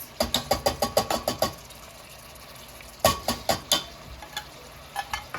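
Canned diced fire-roasted jalapenos being stirred into a pan with red peppers: a quick run of rhythmic scraping strokes, a pause, then a few more scattered strokes over a soft sizzle.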